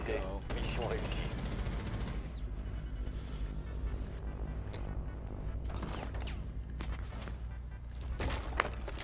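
Gunfire in Rainbow Six Siege: rapid bursts of automatic shots crackle over a dense rumbling game background, with a sharp single crack near the end and talk underneath.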